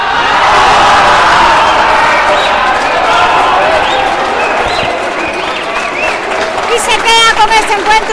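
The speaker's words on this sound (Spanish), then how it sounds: "el público le regala un fuerte aplauso" A crowd at a singles frontenis match in San Luis applauds and cheers in a loud, dense wash of clapping that thins out toward the end, while the crowd chatters throughout.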